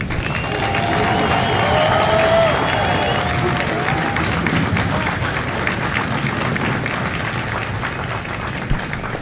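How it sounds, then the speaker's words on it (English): A graduation crowd at MCRD San Diego gives a steady round of applause for the company staff, dense and loud clapping sustained throughout with scattered cheers mixed in. "please join me in a round of applause for the company staff of Company B"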